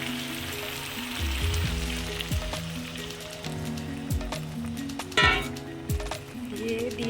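A chicken curry cooks gently on low flame as a little water is added, producing a soft steady sizzle with occasional clinks and stirring knocks of a utensil against the pan.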